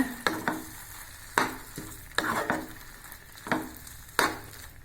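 Close-up sizzling in a hot pan as vegetables and spices with turmeric are sautéed for cauliflower varuval, with a spoon stirring and scraping at irregular intervals while the frying hiss continues underneath.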